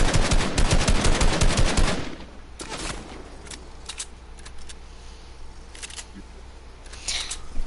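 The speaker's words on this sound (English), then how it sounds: "the burst assault rifle is so OP" Burst assault rifle firing in a multiplayer shooter video game, a dense rapid volley of loud shots for about two seconds, then a few scattered distant shots and clicks over quieter background.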